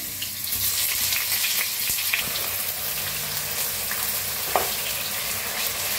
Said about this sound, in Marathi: आता तेल आपलं चांगलं गरम झालंय, बटाटो टाकूया तेलात। छान अशी भाजून घेऊया बटाटो।